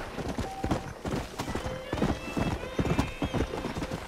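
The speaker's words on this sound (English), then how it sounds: "I love this black horse with the white mane." A black horse with a white mane in the video game Red Dead Redemption trots with steady, close clip-clopping hooves, and a few whinnies rise briefly over the rhythmic hoofbeats.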